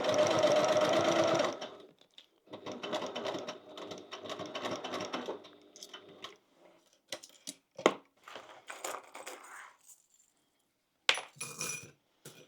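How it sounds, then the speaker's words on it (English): Sewing machine stitching a relaxed crossbody bag: a steady run of fast mechanical stitching, then a second burst, followed by scattered clicks and short handling noises close by. "And then just come forward and sew around."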